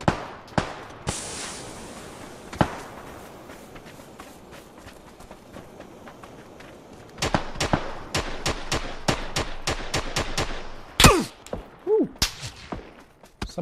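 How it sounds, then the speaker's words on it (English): Gunfire in the battle royale game PUBG on console: a few scattered shots early on, then a fast run of sharp, loud cracks later in the clip, with quieter stretches of movement between them. "Somebody's shooting."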